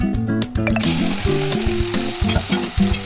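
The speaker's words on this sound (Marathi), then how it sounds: "कडकडून त्यात बासमती राईस टाकून" Basmati rice frying in ghee with bay leaves and whole spices in a pressure cooker, a loud crackling sizzle with repeated scraping stirs, close and without speech.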